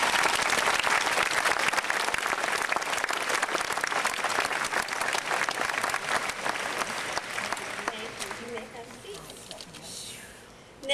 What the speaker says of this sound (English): How about a round of applause for our administrative team members?